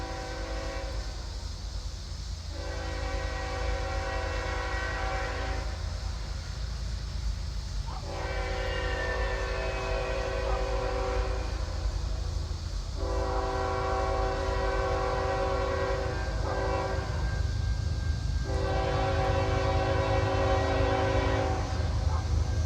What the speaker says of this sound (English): It's like a coal train.